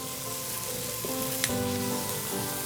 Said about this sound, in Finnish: hirveän kauanhan kalaa ei tarvitse paistaa, se kypsyy aika nopeasti